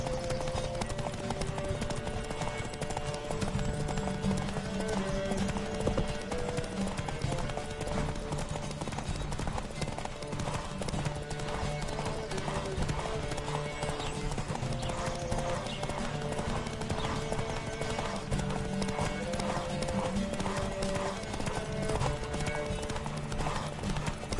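Steady, rhythmic hoofbeats of a horse galloping in The Witcher 3 video game, continuous and fairly loud throughout, layered over game music and ambience.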